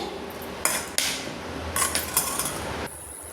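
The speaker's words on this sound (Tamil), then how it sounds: "இந்த மசாலையெல்லாம் போட்டு கிண்டி விடுவோமே." Masala being stirred in a pan for a chicken gravy, with a few sharp scrapes and clinks of a spoon against metal over a soft background hiss, no talking.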